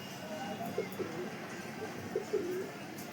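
Pigeons in a home loft coo softly in a few short separate bursts, fairly close but quiet, over a low background hum.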